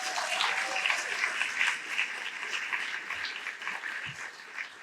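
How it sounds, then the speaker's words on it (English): Audience applause fills a scholarship banquet hall, steady dense clapping from a crowd that carries on throughout and tapers slightly near the end. "So a huge round of applause now would be amazing."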